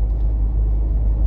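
Steady low road rumble of a car cruising on a highway at about 80 km/h with the air conditioning running, a constant drone with no talking.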